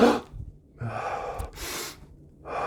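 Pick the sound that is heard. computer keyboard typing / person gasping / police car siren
person gasping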